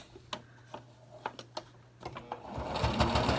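A sewing machine stitching a fabric mask, starting with a few isolated ticking clicks and then rising into a steady close whirring run of stitches, with no talking.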